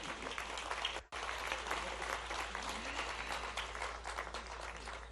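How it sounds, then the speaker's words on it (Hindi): Loud applause welcomes the chief minister at a public development event in Shajapur district, dense clapping from a large crowd with a brief cut near the start. "जोरदार ताली के साथ स्वागत करें"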